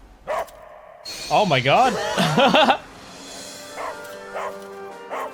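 A hunting dog in the anime Delicious in Dungeon gives a few barking, howling cries from the episode soundtrack, mixed with a viewer's laughter and talk.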